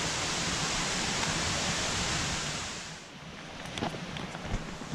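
A stream rushes beside a cave on a forest trail in the Királyerdő mountains, a loud, dense roar that drops noticeably partway through before picking up again.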